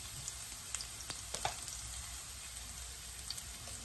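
Pounded garlic and curry powder frying in a hot wok for curry-powder shrimp, a soft, steady sizzle with light crackles and a few spatula taps, fairly quiet and without talk.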